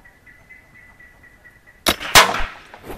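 A PCP Tiger air rifle fires a low-cost hard-alloy hunting pellet at a target 52 metres away: two sharp, loud, close cracks in quick succession break a quiet background with a faint steady hum.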